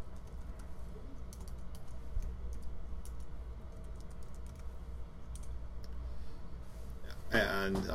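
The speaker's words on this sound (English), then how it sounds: "Now if I type something here" Fingers tap at a computer keyboard in a scattered run of light, quick clicks at close range over a low background hum, ending in a brief louder burst.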